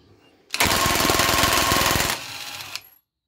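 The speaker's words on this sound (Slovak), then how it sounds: "Vyskúšam skrutku povoliť." An impact wrench set to 100 Nm loosens a screw in one loud, close, rapidly hammering burst of about a second and a half, then spins freely at a lower, steady whir before cutting off.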